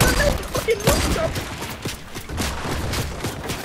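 Rapid bursts of video game gunfire aimed down at a rooftop clatter in dense volleys, with sharp, close shots and a few louder reports early on, while players talk over the shooting.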